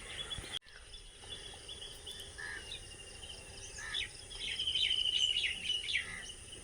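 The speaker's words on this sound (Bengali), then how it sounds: "আর ব্যাঙগুলো ডাকছে শুনুন সকালবেলায়।" Frogs call across flooded fields and a pond on a monsoon morning, making distant, chirping trills over a low outdoor hum that grow louder toward the end.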